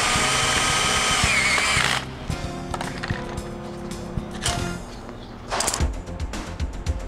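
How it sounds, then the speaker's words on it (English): Power drill driving a screw through a dome rib into the tension ring: a loud whirring drive for about two seconds, then quieter mechanical rattling and a second short burst of the drill, all close up. "now I'm gonna put a screw in it"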